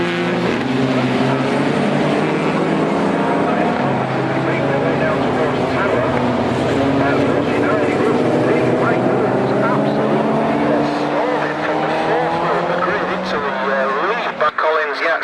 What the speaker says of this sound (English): he's being pushed already by car 66 on the run down towards Clairvaux, car 66, which is Paul Moss